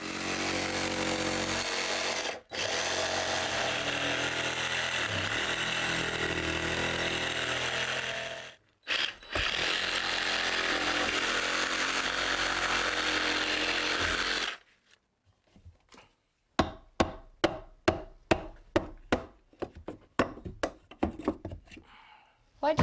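Loud power saw cutting out a wall stud during a home fire escape ladder installation, running in long sustained bursts with brief pauses, then a string of sharp knocks and clatter near the end.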